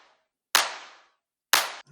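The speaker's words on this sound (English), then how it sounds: "I don't know what's going on with this clap." Two sharp, bright clap samples in a music mix, about a second apart, each with a snappy attack and a short decaying tail.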